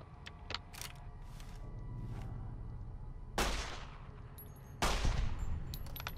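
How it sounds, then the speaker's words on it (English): Scoped pistol gunshots in Fallout New Vegas: two sharp, loud cracks a second or so apart, each trailing off in a short decay, with faint game ambience and small clicks between them. "Fine, I'll use the scoped pistol."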